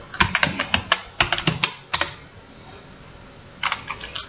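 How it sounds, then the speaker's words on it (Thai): Crisp computer keyboard keystrokes enter a command in rapid clusters, then a pause, then a short final burst of taps, close and fairly loud with no speech. "ให้พิมพ์คำสั่ง c enable นะครับ"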